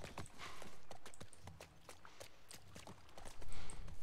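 Horse hooves walking in The Last of Us Part 1, a steady run of soft clip-clop steps close by, fairly quiet with a low ambient rumble underneath.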